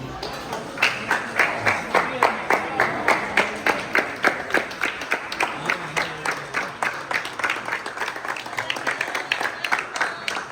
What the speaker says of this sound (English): We get a round of applause going into the buffet.